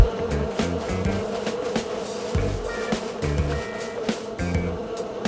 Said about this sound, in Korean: 이 수류탄을 던질 경우 꿀벌이 나와서